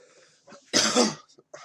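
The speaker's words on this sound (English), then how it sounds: "Sorry, I'm coughing a lot." A single harsh, loud cough burst up close, preceded and followed by faint rustling and breathy sounds.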